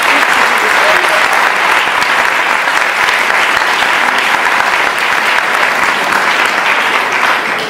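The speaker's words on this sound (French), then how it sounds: "Et surtout d'applaudir toute l'équipe d'Eloquentia Bordeaux qui a été incroyable." Loud, sustained applause from an audience fills the hall for the Eloquentia Bordeaux speech contest team at the 2018 final, an even dense clapping throughout.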